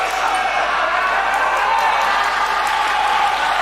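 Steady broadband crowd applause fills a football stadium during the Tanah Datar versus SS Kota Pariaman semi-final, a continuous loud wash of clapping and crowd noise with no pauses.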